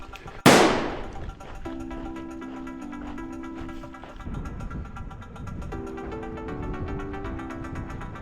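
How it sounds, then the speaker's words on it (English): Shotgun fire from a clay pigeon range on a Guernsey cliff path gives one sharp, loud crack early on, followed by a steady hum, a tonal drone and faint clatter. "we get to run to the sound of gunfire overhead"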